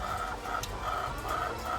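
Chickens on a farm cluck continuously in a steady, moderately loud flock chorus, with a few sharper calls rising over the background.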